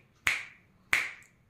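Two crisp finger snaps, close and clear, about two-thirds of a second apart, each a sharp click with a short ringing tail against near silence.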